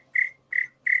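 A person imitates cricket chirping with three evenly spaced, high, thin chirps, close and clear with no talk.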